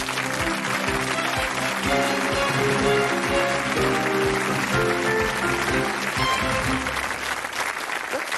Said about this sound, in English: we give a hurricane of applause to Mark Postlethwaite